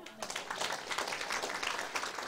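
Audience members applaud at a political meeting, a sustained patter of clapping hands at moderate loudness that ends in a sharp louder burst.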